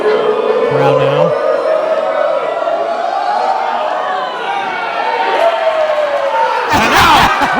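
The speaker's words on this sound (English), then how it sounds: "Crowd now." A crowd at a live wrestling event makes a constant roar and chatter, with a brief loud crash near the end, while a commentator's voice runs on top of it.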